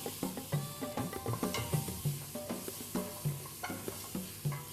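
Soft frying sizzle of garlic, ginger and spices with rhythmic stirring scrapes against the pan, repeated clinks and scrapes every half second or so, no talking.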